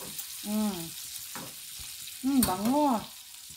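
Fish frying in hot oil in a pan, a steady sizzle running under two short bursts of speech.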